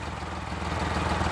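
A Suzuki F6A engine in a Multicab idles steadily, a close, even low drone with a faint pulsing rhythm and no speech over it.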